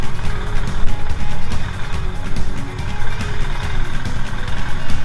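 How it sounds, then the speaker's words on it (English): Off-road motorcycle ridden at a training session, its engine droning loud and close with a rough, rumbling low end that rises and falls steadily throughout. "We are trying how to stand and ride the bike"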